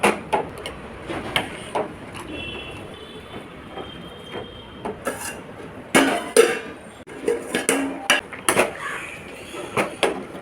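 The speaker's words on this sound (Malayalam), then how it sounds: "നല്ലോണം ഇളക്കി യോജിപ്പിച്ച് ഒന്നുകൂടെ തിളപ്പിച്ചെടുക്കാം" Spinach stem and tomato curry with ground paste is stirred in a pot, with irregular bursts of close metallic scraping and clanking between quieter stretches.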